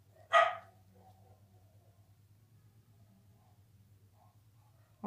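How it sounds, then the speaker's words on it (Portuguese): A dog gives one sharp, startling bark early on, close and loud, then a quiet hum continues until a second abrupt bark-like burst cuts in at the very end. "Que susto, o cachorro latiu."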